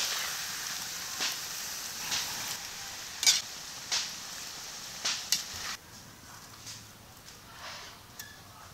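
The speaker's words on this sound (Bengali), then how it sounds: "আলুগুলো ভাজা হয়ে গেছে" Potatoes fry in hot oil in a pan, giving off faint, scattered crackles and soft sizzling pops at irregular intervals over a quiet background.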